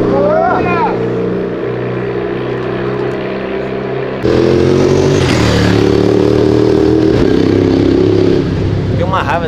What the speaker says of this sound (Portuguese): Tem uma raiva dessas motos, não dá pra gravar, passa muito rápido